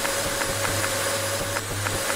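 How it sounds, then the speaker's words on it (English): A vacuum cleaner in a cleaning video game hums steadily with a constant motor tone and faint rhythmic pulses, heard alone at moderate level. "Why can't I vacuum up this one piece?"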